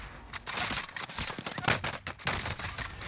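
Dense gunfire in the battle royale shooter Warzone, a loud, continuous burst of rapid shots and impacts lasting a few seconds, close and harsh with no pauses.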